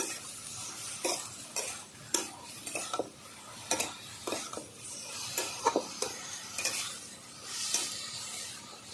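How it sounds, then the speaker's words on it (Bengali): Eggplant pieces with neem leaves fry in a pan while being stirred, giving a soft steady sizzle broken by regular scraping strokes and light clinks of the utensil against the pan, close and moderately loud. "বেগুনগুলো খুব সুন্দর ভাজা হবে লাল লাল করে ভেজে নেব"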